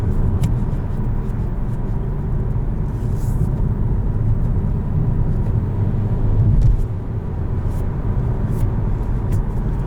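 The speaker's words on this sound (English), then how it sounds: "you can put it into manual where it simulates gear shifts" A 2020 Kia Soul X-Line drives in its simulated manual gear-shift mode, heard from inside the cabin. A steady, loud low engine and road rumble continues throughout, with no distinct shift points standing out.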